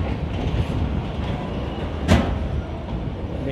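The Vikramshila Express runs at speed after leaving Kanpur Central, a steady close rumble of coaches with rhythmic wheel clatter and a brief sharp metallic squeal partway through.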